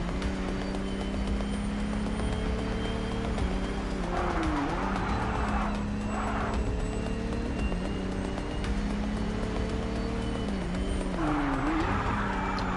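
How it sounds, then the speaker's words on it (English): A car is driven in the video game MindsEye. Its engine holds a steady, sustained hum with strong tonal layers and small shifts in pitch, loud and continuous, with no talking. "I love the driving, even this car specifically"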